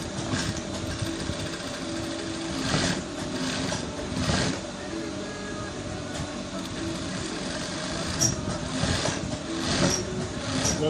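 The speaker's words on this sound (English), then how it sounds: "So what you now do is, you now sew at this point." A sewing machine stitches beside the collar of a short-sleeve button-down shirt, a continuous mechanical whir with periodic louder bursts and faint clicks, running steadily for several seconds at close range.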